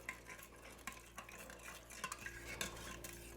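Beef, broccoli and garlic stirred in a sizzling Instant Pot, a soft run of utensil scrapes and clinks against the metal pot over a low frying hiss, close and fairly quiet.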